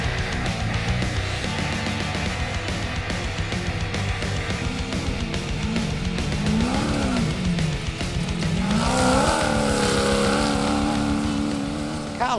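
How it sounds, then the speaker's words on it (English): A V8 trophy truck racing flat out on a rough dirt course in the Griffith 400, with its loud engine roaring and climbing through revs as it passes, and an announcer talking over it. "The always very spectacular Greg Gartner pushing his V8 trophy truck to the limit."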